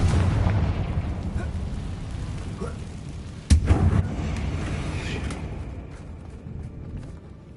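A Confringo blasting curse explodes in a wizard video game, landing as a single sharp boom over a dense low rumble of game ambience, which then eases off gradually.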